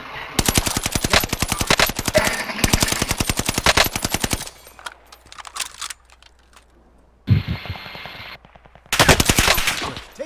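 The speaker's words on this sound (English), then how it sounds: "Taking heavy fire." Heavy automatic gunfire rattles in the Caldera video game battle: long, dense bursts of rapid shots, a quieter stretch with scattered noise, then more loud bursts close by, with no talking.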